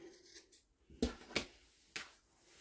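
Scissors snip through fabric while a scrap tote bag is being made, giving three or four short, crisp cuts spaced irregularly over a quiet background.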